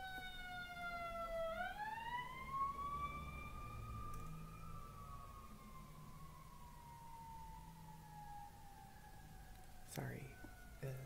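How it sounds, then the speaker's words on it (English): An ambulance siren passes outside, its rising and falling wail sweeping up then drifting down, fairly prominent over a quiet indoor room with faint whispering-level background and a soft tap near the end. "that was an ambulance"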